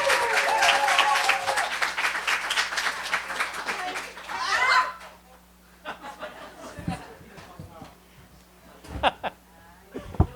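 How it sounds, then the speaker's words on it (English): A book-launch audience applauds loudly for about five seconds, then the clapping fades into scattered chuckles, murmurs and a few late claps in the room. "Please give a round of applause for R."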